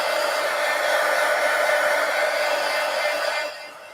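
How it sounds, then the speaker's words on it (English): Heat gun blowing hot air onto an altered book collage, a steady loud broadband whoosh that holds evenly for over three seconds, then drops to a quieter rush as the gun is eased off. "let me just kind of hit this lightly with the heat gun. Keep turning it."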